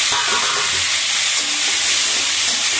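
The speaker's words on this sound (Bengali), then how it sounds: "এবার আলুটা একটু দিয়ে দিই, ডিমটা অনেকটা হয়ে এসেছে, একটু ভাজা করে নামিয়ে নেবো" Potatoes frying with egg in a pan, a loud, dense, continuous sizzle and hiss close up, with faint stirring underneath and no talk.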